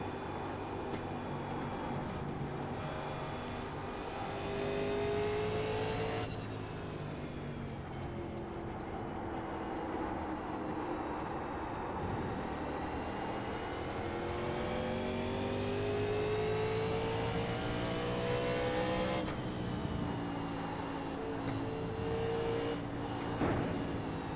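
A race car laps Mosport in the iRacing video game, its engine droning and rising through long sustained revs with gear changes and steady tonal whine, loud and continuous without speech.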